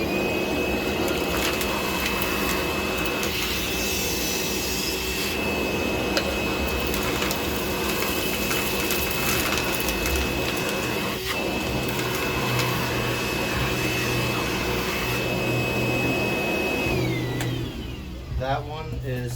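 A DeWalt DCV581H cordless wet-dry vacuum, hose without attachment, sucks up aquarium sand in a loud, steady roar with a high whine that runs for nearly twenty seconds before cutting off, with faint talk beneath.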